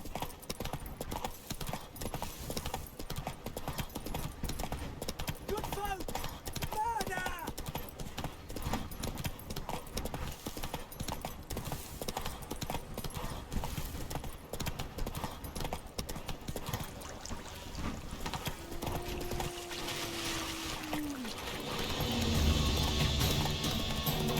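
Hooves of the horse Roach trotting in The Witcher 3: Wild Hunt, a steady clip-clop throughout with faint game ambience, a voice speaking briefly over it and a short whinny-like tone near the end.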